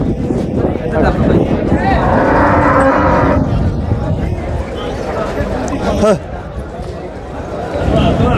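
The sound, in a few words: cow and calf mooing at Dabwali cattle market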